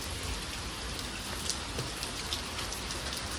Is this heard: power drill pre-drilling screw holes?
no